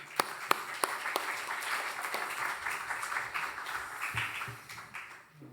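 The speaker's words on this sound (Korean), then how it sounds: "박수로 맞이하겠습니다." A church congregation applauds to welcome the pastor at a Sunday service, a few sharp individual claps opening into soft, fairly distant applause that fades out.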